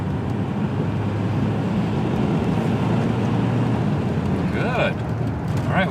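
Volvo 240 car cruising at about 45 miles an hour, a steady loud road and engine drone heard from inside the cabin, with a brief voice near the end.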